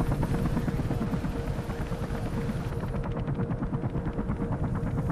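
A steady, loud helicopter rotor thrums throughout in the video game Mirror's Edge, dense and continuous with a rapid chopping pulse, no voices.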